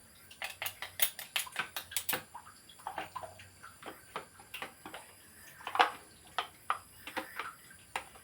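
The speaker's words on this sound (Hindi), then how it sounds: "और एक बार इसको चम्मच से घुमा देते हैं।" A metal spoon stirs tomato chutney made with mint, onion, garlic and chili, giving a rapid run of light clinks and scrapes against the pot, fairly close and quiet.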